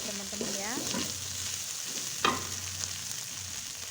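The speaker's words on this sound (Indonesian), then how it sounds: "ikan teri kita masukkan dan kita gongsreng bersama bumbunya" Dried anchovies stir-frying with ground spices in a pan for papaya leaf dish, a steady close sizzle with a few scraping stirs and a sharp clatter partway through.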